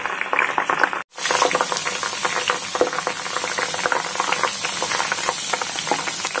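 Herbal hair oil cooking in an iron kadhai, a steady close bubbling and sizzling that continues with one brief break, with no talk.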